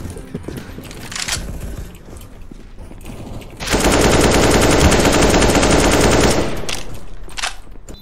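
Automatic AK rifle fire in the video game CS:GO: one loud, sustained burst of about three seconds that breaks out of quieter in-game background noise, then drops back to faint sounds.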